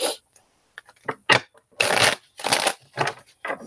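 Tarot cards shuffled by hand in several quick, crisp bursts of riffling and slapping, close and fairly loud, separated by short pauses.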